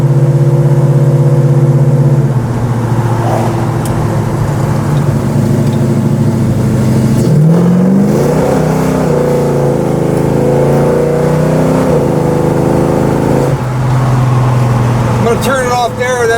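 A 1970 Chevrolet Chevelle SS with a big-block 396 V8 revs and pulls hard on a town drive, its loud steady engine drone climbing and falling in pitch through gear changes, with some talk over it.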